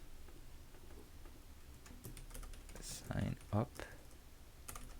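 A computer keyboard is typed on in a short, light burst of clicks, fairly quiet and close, with a brief word spoken partway through.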